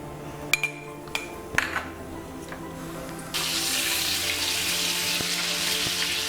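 Oil and butter sizzle in a kadai for pav bhaji, preceded by a few clinks of utensils, then a steady, bright frying hiss fills the second half.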